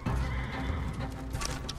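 A horse in Ghost of Tsushima whinnies loudly, its neigh holding across the whole short stretch over a steady low rumble of game ambience, with faint hoof clip-clops mixed in.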